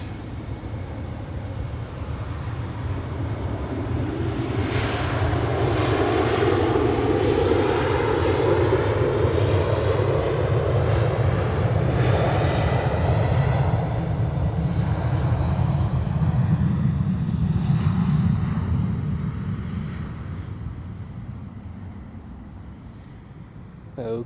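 Airliners from KLM and Emirates at Zurich Airport, heard as a long, loud jet rumble that swells over several seconds, holds steady, then slowly fades as the aircraft passes, with no talk over it.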